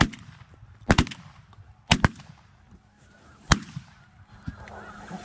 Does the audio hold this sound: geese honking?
yes